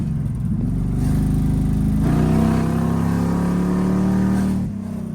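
40+ year old car engine revving on motor without nitrous, a loud close-up drone that climbs steadily in pitch and then drops back, heard alone.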